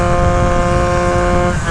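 A scooter engine idles loudly and steadily at low revs with a cheap performance exhaust and a fuel-starved carburettor, a rough continuous putter with a slight dip near the end.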